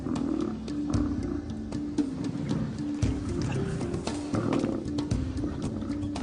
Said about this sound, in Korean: 새로운 사자들이 들어온 이후 처음으로 함께하는 식사입니다.